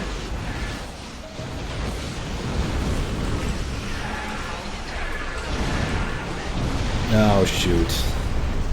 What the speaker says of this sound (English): all their warp core breaches went off